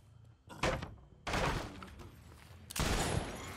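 Deathslinger spear gun shots in the video game Dead by Daylight, a few sharp loud bursts spaced about a second apart, close and alone with no talking.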